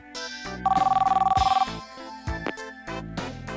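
A telephone rings in the Japanese dating game Sweat & Tears: a loud, rapid electronic bell trill lasting about a second, with game music playing before and after.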